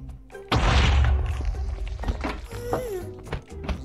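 Explosion in Minecraft, one sudden loud thudding blast followed by scattered knocks and game noises as it fades.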